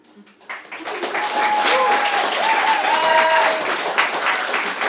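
Audience applause at a stand-up comedy show fills the room, building quickly from a quiet start into sustained, dense clapping that stays loud and steady to the end.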